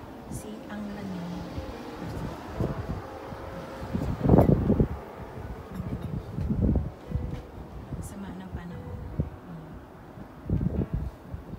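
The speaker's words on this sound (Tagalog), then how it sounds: "Ayan, ang lakas ng hangin." Strong blizzard wind gusting at a snowy driveway in deep cold, buffeting the microphone with loud, uneven bursts of roaring noise over a constant rush, while a person speaks briefly.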